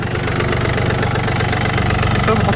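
A Yanmar F220 mini tractor's three-cylinder diesel idling close by, a loud, even, steady chugging with no change in pace.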